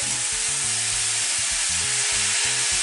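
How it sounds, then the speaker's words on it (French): Tomatoes and vegetables cook in a pan with a loud, steady bubbling sizzle that holds without a break, no voices present. "je vais laisser ça mijoter environ 5 minutes"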